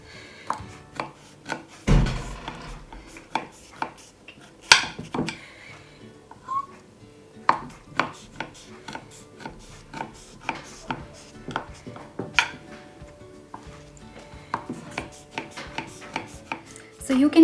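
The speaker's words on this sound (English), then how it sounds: "you can cut it even after the pastry is cooked, but I find it easy to cut it before it is cooked" A knife cuts uncooked Turkish baklava pastry into squares, giving a long series of sharp, close taps and thuds on the board at an uneven rhythm, with one heavier clatter early on.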